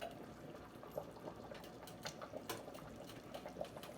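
A pot of beef and vegetable soup simmers quietly, giving a faint steady bubbling with occasional soft pops and no talking.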